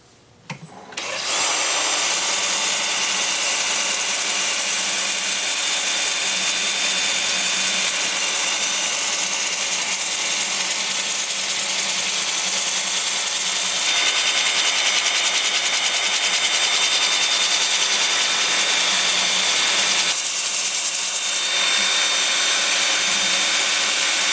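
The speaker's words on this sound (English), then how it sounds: "I'm going to start at 80 grit on my 2-inch disc with the lathe spinning in reverse at about 320 RPM." A wood-turning lathe spins in reverse at about 320 RPM while an 80-grit two-inch sanding disc grinds against junk wood, giving a loud, continuous whirring rasp that starts abruptly and holds steady for over twenty seconds with slight shifts in tone.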